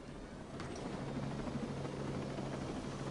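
Steady low rumble and rotor thrum of a helicopter, heard from nearby at moderate level, continuous throughout with no voices.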